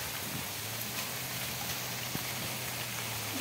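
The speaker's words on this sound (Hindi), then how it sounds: "देखो वर्षा हो गला वर्षा आरंभ हो गला" Steady rain falls in a rural village, a constant broadband hiss with no break, moderately loud and close, with a faint low hum running beneath it.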